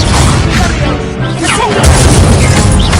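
A Confringo explosion spell in the Hogwarts Legacy video game: loud booming blasts and crashes in dense succession, with whooshing effects and some voice mixed in.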